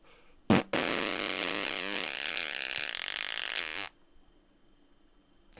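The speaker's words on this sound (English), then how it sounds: "That's a long fart." A long, loud, buzzing fart lasting about three seconds, preceded by a short sharp burst, then quiet.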